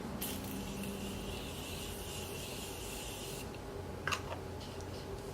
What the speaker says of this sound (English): I'm just going to take the Morphe Setting Mist and just spray over that as well.